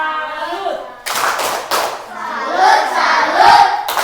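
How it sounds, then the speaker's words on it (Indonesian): A school class performs the 'tepuk salut' clapping cheer, with a burst of many hands clapping in rhythm mixed with children chanting and shouting together, loud and close, after a teacher's voice at the start. "Tepuk salut dulu untuk kelompok kedua."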